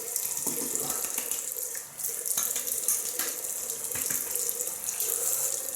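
A bathroom tap runs into a sink, with water splashing and sputtering continuously and close by while the face is wetted for shaving.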